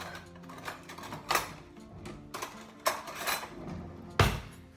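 A fork scrapes and clinks against a bowl while flour is stirred into cake batter, a series of irregular close taps and scrapes at a moderate level with no one speaking.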